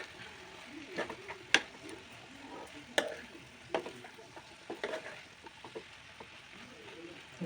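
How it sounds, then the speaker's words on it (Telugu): Onions, in a spring onion curry, stirred and frying in a pan: a quiet sizzle broken by intermittent scraping strokes and soft clacks of the spoon. "ఆనియన్స్ వేయాలి. కొంచెం కలుపుకోవాలి."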